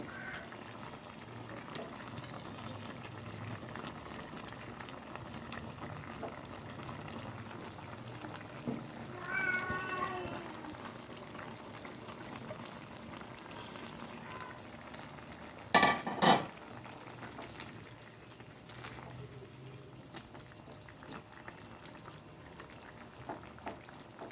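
Rohu fish pieces fry in a pan with potato, cauliflower and tomato, giving a faint, steady sizzle throughout, and a cat meows a couple of times partway through.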